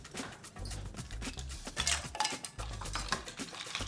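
Ice and a spoon clink and rattle in a glass as a Moscow Mule cocktail is stirred, quick close rhythmic clatter lasting throughout, with no voices.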